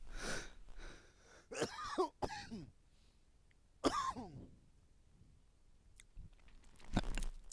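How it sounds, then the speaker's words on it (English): Several separate coughs and throat-clearing bursts, close and fairly loud, spaced out with quiet gaps between them. "Here's a cough."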